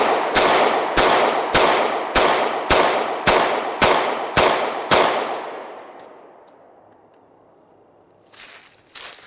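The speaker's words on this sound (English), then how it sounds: "it has taken 13 shots so far, and you can see where it's kind of pounding into the soft wood there." Gunshots fired at a SafeGuard Armor Stealth bulletproof vest backed by soft wood, ten sharp evenly spaced reports in a rapid string, each with a ringing decay, followed by a long fading tail and a brief rustle near the end.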